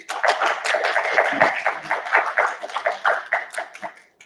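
Scattered clapping from a small workshop audience, uneven and fairly close, tapering off toward the end.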